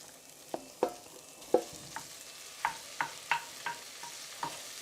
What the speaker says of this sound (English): So we're going to add the ground beef. Break it down with your spoon,